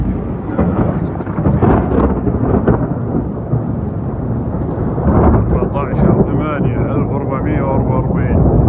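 Rolling thunder over steady rain during a thunderstorm in the Al-Fajr district of Hail, Saudi Arabia, loud and continuous throughout, with rumbles swelling midway and a voice faintly audible beneath the storm.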